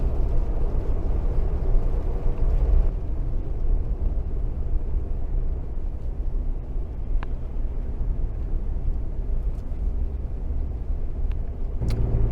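Trucks and cars passing on a road near Lake Nipigon, a steady broadband rumble of traffic heard from nearby with faint intermittent clicks, no talk.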